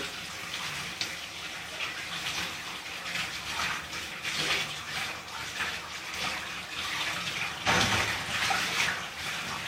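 Water running and splashing steadily during a bath, a continuous close gushing wash with brief louder surges near the end.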